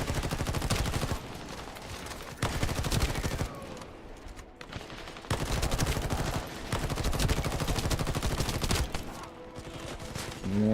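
Rapid rifle gunfire from the sci-fi shooter game The First Descendant, loud sustained bursts of automatic fire broken by a few short pauses, close and dense throughout.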